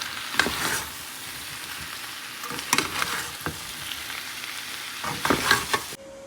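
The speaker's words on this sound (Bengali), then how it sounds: "সোয়াবিন দিয়ে দিয়েছি এবার এই যে মশলার সঙ্গে কষিয়ে নেব" Soybean chunks and potatoes fry with spices in a pan, giving a steady sizzle that is broken several times by louder scraping and stirring bursts.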